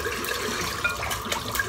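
Running tap water rinses a 27mm boar-bristle shaving brush, making a steady close splashing stream with small irregular spatters.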